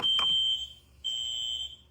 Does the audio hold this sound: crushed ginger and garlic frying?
no